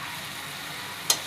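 Spice paste for a fish curry frying in oil gives a faint, steady sizzle with one sharp crackle near the end.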